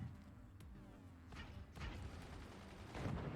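Mortars firing in the artillery strategy game Forts during a 1v1 tournament match, a few faint, distant thumps and booms spread across a low rumbling battle bed.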